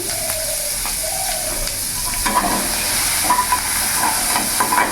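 Chopped onion frying in hot oil in a pan with a torn bay leaf sizzles as a continuous bright hiss, close and steady, with small crackling pops scattered through it.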